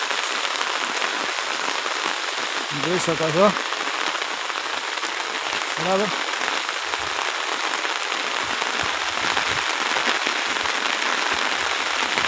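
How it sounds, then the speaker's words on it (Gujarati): Heavy rain pours down steadily in a village setting, a loud dense hiss of drops on surfaces throughout, with a person talking briefly over it. "વરસાદ જબરજસ્ત પડે"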